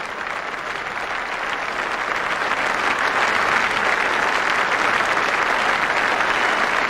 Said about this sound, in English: Marvellous applause all around the ground for that fine innings